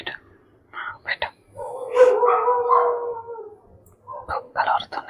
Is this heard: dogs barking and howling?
yes